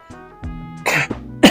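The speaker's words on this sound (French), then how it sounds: "pardon, j'ai un peu la toux" A woman coughs several times in short bursts with brief throat clearing between, close and fairly loud, during a French conversation about relationships; no words are spoken.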